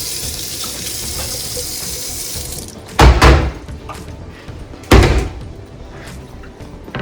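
Water runs from a tap in a kitchen, a steady hiss for the first few seconds, then two loud knocks or thuds a couple of seconds apart.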